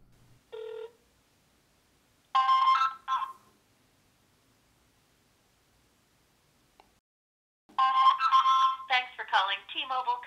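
A phone call on speakerphone: a short tone burst, a gap, then ringback tones, then a long stretch of near silence before a voice answers over the line, with the sound thin and telephone-filtered.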